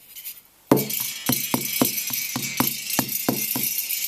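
A coiled spring rattles inside a universal stainless steel exhaust silencer, first a sharp metallic knock, then a regular series of ringing clanks about every quarter second, close and loud.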